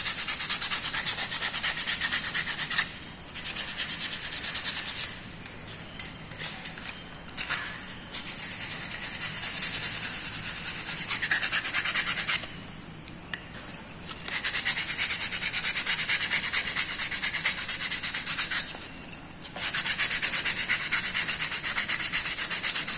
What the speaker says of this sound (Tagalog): Kaya gagamitan natin ng lilihain natin